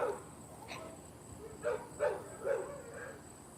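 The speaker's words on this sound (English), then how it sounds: "The dogs are ruining my audio." Distant dogs beside a backwater canal give several short, muffled barks spaced about half a second apart over a faint background hum.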